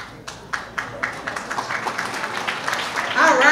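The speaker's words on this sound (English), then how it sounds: "let's give them all another round of applause" At a graduation ceremony, an audience applauds summa cum laude students, with claps beginning sparsely and quickly building to dense, steady applause from a crowd in a hall.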